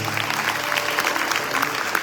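Audience applause for musicians at an evening Hindu cultural concert in South Africa, a continuous, fairly loud wash of many hands clapping throughout.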